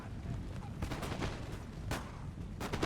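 Musket volleys crackle in Napoleon: Total War, dense irregular bursts of gunfire rolling over a low rumble of battle noise, fairly faint and distant in the mix.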